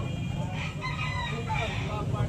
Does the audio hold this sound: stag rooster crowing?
yes